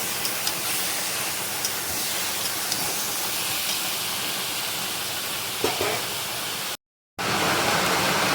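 Chicken being sautéed and stirred in a pan sizzles steadily with a constant bright hiss, broken by a brief cut near the end.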